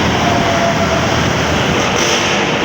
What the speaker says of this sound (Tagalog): Ayan yung MRT.